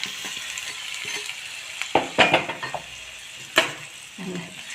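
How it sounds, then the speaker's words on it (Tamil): Hot tempering poured into a banana stem sweet pachadi crackles with a burst of sizzling, several sharp spitting pops rising over a low steady fry hiss, close and moderately loud. "இப்போ தாளிச்சதை இதெல்லாம் சேர்த்துடலாம்"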